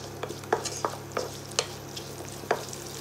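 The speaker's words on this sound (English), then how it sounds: "Fry well." Garlic, ginger and onion frying in a pan, a low steady sizzle with a handful of sharp, close spoon knocks and stirs spaced through it, no talk.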